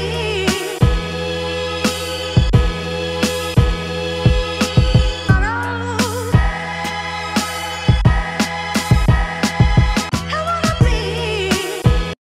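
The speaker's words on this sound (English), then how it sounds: "let's also just program a little drum fill towards the end of our loop here" A programmed drum loop in a hip-hop production style thumps loud and clean, with punchy kicks and snares in a steady repeating groove, then a quick drum fill breaks the pattern near the end.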